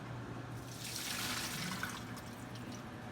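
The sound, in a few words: gush of water flowing during colonic irrigation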